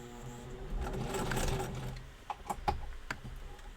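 A sewing machine back stitches a fabric face mask, running steadily with a dense mechanical whir, then slowing into a few distinct clicking needle strokes near the end, close and alone.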